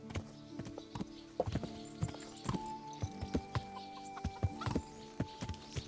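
A galloping horse in the medieval video game Kingdom Come: Deliverance makes a steady run of hoof clip-clops, sharp and rhythmic, with a faint whinny-like tone layered over the game's ambient sound and no speech.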